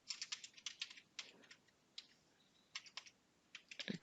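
Bursts of keystrokes on a computer keyboard while an expense type is entered into SAP S/4HANA software, quick clicky taps in uneven clusters separated by brief pauses, close and fairly faint, with no talking.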